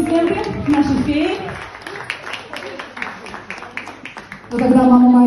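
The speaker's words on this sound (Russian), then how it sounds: "Еще раз бурные аплодисменты нашей феи." Audience applause at a Christmas concert in Zhemchuzhina fills the middle stretch with a busy patter of clapping, while a presenter's voice talks over the start and returns clearly at the end.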